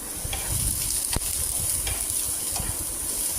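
Dried red chillies frying in hot oil in a pan, a loud continuous sizzle and crackle with a few sharp pops, close up and with no voices.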